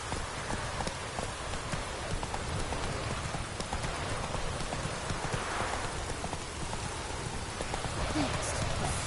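Video game rain in The Witcher patters across surfaces in a continuous hiss, with faint rhythmic thuds mixed into the downpour.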